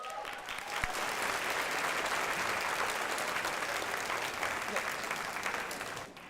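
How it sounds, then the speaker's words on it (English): Sustained applause from diners at a McNair Senior Research Symposium awards dinner, a thick, continuous roar of many hands clapping at even strength for about six seconds before tapering off slightly at the end. "Give them a round of applause,"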